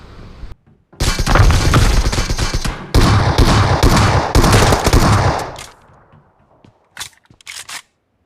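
Rapid bursts of Mini14 rifle fire in PUBG Mobile gameplay, loud and close, in two long volleys followed by a few sparse single shots trailing off.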